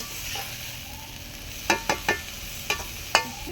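Chilli and cumin are stirred together in a frying pan over a clay stove while cooking bottle gourd with rohu fish, a soft sizzle broken by several sharp scraping clicks of the spoon.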